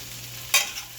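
Vegetables and eggs frying in a pan, with eggplant among the vegetables, give a brief hissing sizzle burst that flares up and fades within a second.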